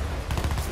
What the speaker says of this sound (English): What's shooting at me right now?